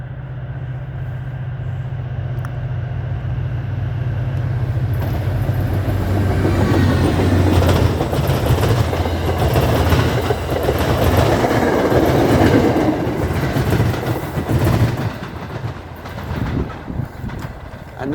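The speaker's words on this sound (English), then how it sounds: "that sound was the train crossing the track switch" An MBTA commuter train rumbles close by crossing a track switch, with rhythmic clattering of wheels over track joints, loud and steady, then fading slightly toward the end.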